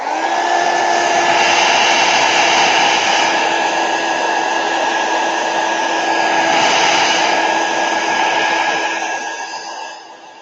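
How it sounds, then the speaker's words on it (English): A heat gun blows hot air to dry toilet paper, a loud steady electric whine with a whooshing airflow running continuously for about ten seconds before winding down at the end. "I'm going to hit it with a heat gun, just speed up the process a little bit."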